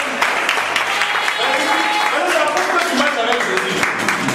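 A church congregation applauds in acclamation of God, a dense, steady wash of clapping from many hands lasting the whole moment, with a voice speaking over it.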